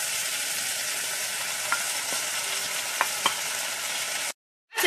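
Parsley and onion fry in hot olive oil, a steady loud sizzle with a few scattered clicks of stirring, cutting off abruptly near the end.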